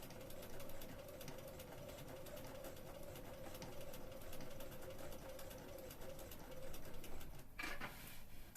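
A sewing machine stitching through thick layers of fabric for a Regency dress gives a faint, steady mechanical whir with fine rapid ticking. It runs continuously, then stops abruptly near the end amid soft rustling.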